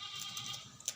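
Goat bleating at a livestock trader's, a faint, distant cry in a noisy outdoor setting, with one brief sharper call near the end.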